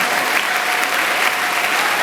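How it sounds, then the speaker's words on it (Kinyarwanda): Crowd applause at a church gathering praising Jesus Christ, a dense, steady roar of clapping hands that stays loud and continuous throughout. "Dukomere amashyi umwami wacu Yesu Kristo"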